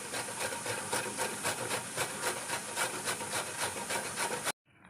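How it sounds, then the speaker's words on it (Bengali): Peeled sweet potato grated by hand for payesh, a steady close rubbing and scraping rhythm that runs continuously before stopping abruptly. "এবার রাঙালুটা এরকমভাবে ঘষে নেব।"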